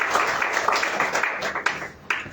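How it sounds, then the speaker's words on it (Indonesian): A church congregation claps enthusiastically during a worship service, with brisk, dense applause and a few sharper individual claps standing out near the end. "Beri tepuk tangan yang meriah buat Tuhan Yesus."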